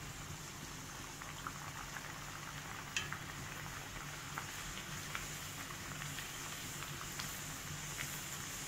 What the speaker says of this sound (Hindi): फ्रेंड्स अब मैं पूरियां डालूंगी।